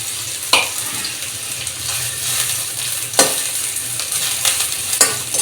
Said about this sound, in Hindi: इसको हल्का हम फ्राई कर लेंगे।